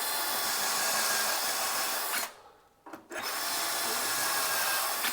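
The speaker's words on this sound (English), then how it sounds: "Pre-drill these." A power drill with a self-centering bit whirs steadily while pre-drilling holes for drawer boxes, stops briefly for about a second, then runs again at a constant pitch, close by.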